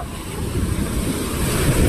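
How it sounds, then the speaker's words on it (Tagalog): Loud surf roars continuously, rough low rumble of large waves mixed with wind buffeting the microphone, no voices. "Ang laki ng alon, oh."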